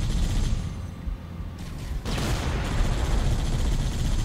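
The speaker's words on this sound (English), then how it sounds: "it does have a machine gun on it though" The Scorpion tank's machine gun in Halo CE rattles in dense, continuous bursts, loud and close, with a brief lull before the fire surges again under heavy battle noise.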